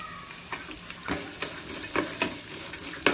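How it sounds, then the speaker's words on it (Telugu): Peanuts and chana dal with turmeric frying in a pan, a soft steady sizzle broken by several crisp crackles and stirring scrapes at close range, with no voices. "వీటన్నింటిని బాగా ఫ్రై చేసుకోవాలి।"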